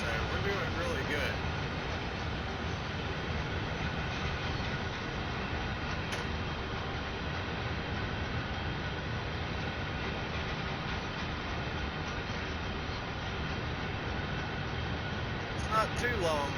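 A short train rolling steadily on rails in Train Sim World 5, a continuous rumbling drone with faint clickety-clack, unbroken and fairly loud for the whole stretch.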